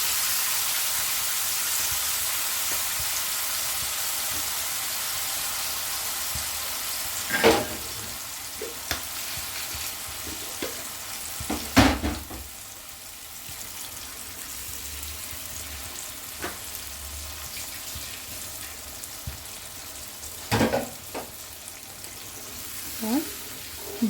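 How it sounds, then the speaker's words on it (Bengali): Spice paste with garam masala frying slowly in a pan for a Bengali baby eggplant dish, a steady soft sizzle with a few sharper pops and stirring scrapes. "ভালোভাবে এইবার আস্তে আস্তে ভেজে নিতে হবে যতক্ষণ না এই মশলার কাঁচা গন্ধটা চলে যায়।"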